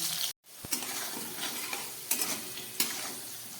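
Potatoes lightly salted and frying in a pan hiss with a steady sizzle while a utensil stirs and scrapes them, with a brief pause near the start and a few sharper scrapes later.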